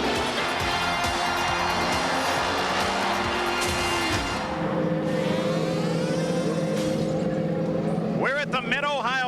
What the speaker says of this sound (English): The Indy cars have just roared into life